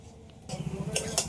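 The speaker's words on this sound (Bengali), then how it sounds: "ঢাকা দিয়ে দিচ্ছি।" A lid goes onto a cooking pan of papaya seasoned with torn green chilli, salt and turmeric, set to steam: a soft clattering settle followed by two sharp metallic clinks, close and fairly quiet, with no one talking.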